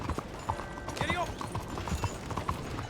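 A horse gallops in Red Dead Redemption 2, its hooves beating in a quick, steady clip-clop rhythm for a few seconds while a voice talks over the hoofbeats.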